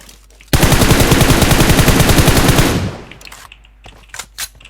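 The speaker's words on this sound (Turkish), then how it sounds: "Niye vuruyorsunuz hepsini?" Automatic gunfire in the PUBG Mobile video game comes as one loud, rapid burst lasting a couple of seconds, followed by faint scattered shots and clicks.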